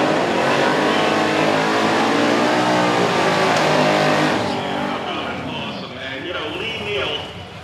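A quarter-mile drag racing car roars loudly at the finish line as the driver lifts off the throttle, the engine's harsh drone dropping and fading as it passes, with a commentator talking over it.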